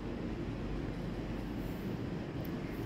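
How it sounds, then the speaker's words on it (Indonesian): A train pulling away from a platform at Nishi Funabashi station in Chiba, Japan: a steady, fairly quiet low rumble with no voices. "kereta pintunya tertutup, drup, langsung jalan"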